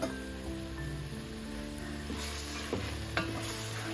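Carrots and beans get stirred into sizzling vegetable biryani masala in a pan, close-up, with busy frying crackle and scraping stir strokes throughout.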